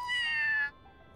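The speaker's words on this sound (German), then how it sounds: "Da ist eine Katze auf dem Dach!" A cat on a roof in the video game Scribblenauts Unlimited gives a single clear, drawn-out meow that ends abruptly.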